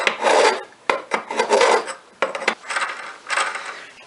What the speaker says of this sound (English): It doesn't quite fit all the way down here, so I have to take a little bit out of the bottom with my file.